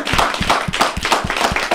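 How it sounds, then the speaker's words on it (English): A small audience at a Black History Month presentation claps for a woman, with distinct, fairly close hand claps in a loose, uneven rhythm. "we owe you a big round of applause"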